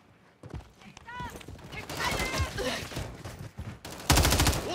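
Rapid video-game gunfire from a Modern Warfare 3 Team Gun Game match, with bursts of shots, a dense volley near the end, and game voices over it.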